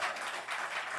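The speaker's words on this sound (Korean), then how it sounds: "듣고 싶으면 박수 한번 쳐보세요." Church congregation clapping at a Sunday sermon, a dense, steady wash of many hands applauding at close range throughout the short moment, with no voices over it.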